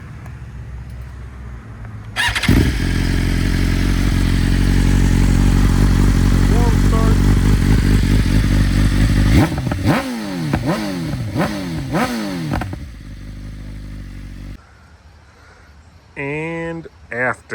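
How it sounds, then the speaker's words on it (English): A BMW S1000RR sportbike on its stock slip-on exhaust idles, then revs hard and steadily before a run of sharp throttle blips rising and falling, ending with a few quick higher revs after a pause. "this is the stock BMW slip-on."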